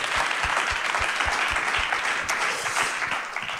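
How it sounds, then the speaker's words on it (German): Sustained audience applause at a talk on stage, with a thick wash of clapping, a few heavier thumps early on, and a slight fade toward the end. "und das ist ein Applaus."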